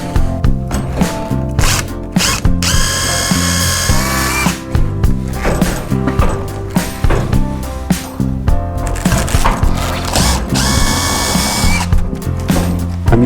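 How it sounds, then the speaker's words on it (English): A power drill pre-drills two holes for a garage door bracket, whining in loud sustained bursts with brief pauses between them, no voices present. "I'm going to pre-drill these two holes."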